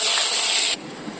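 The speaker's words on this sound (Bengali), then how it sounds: "পটলগুলো ভেজে নেব।" Pointed gourd frying in fish oil gives off a loud, close, bright hiss for under a second, then cuts off abruptly to a quiet background.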